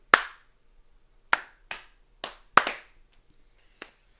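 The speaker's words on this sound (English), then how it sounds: "Easy clap." Six or so sharp, isolated hand claps ring out one at a time with uneven gaps, close and fairly loud, in an otherwise quiet room, the last one fainter.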